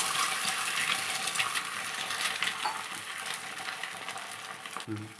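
Omelettes frying in a pan for a tomato omelette curry, a close, steady sizzle that slowly fades, with a few light taps and a clink near the end, no voices.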